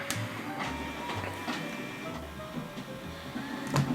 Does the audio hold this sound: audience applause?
no